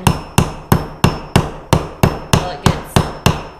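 Eleven sharp hammer strikes drive a staple into wood at a steady, even pace, each a loud close knock with a short ringing decay.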